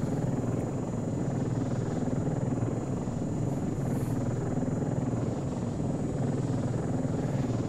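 MQ-12 Falcon unmanned helicopter drone from the military game ArmA 3, its rotors making a steady, dense whirring drone that holds at an even loudness throughout with no speech.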